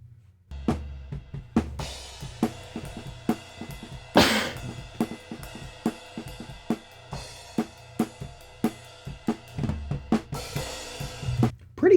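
Overhead microphones on a right-handed drummer's kit, the hi-hat, ride and mono overheads mixed together: steady cymbal and hi-hat strikes with drum hits beneath, a crash burst near the middle and another toward the end, with no voices.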